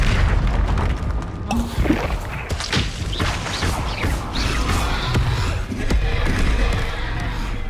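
Confringo fire-blast spells crackle and boom in the Hogwarts Legacy video game, a dense, continuous mix of loud impacts, bursts and combat noise with several sharp hits layered over rumbling game sound.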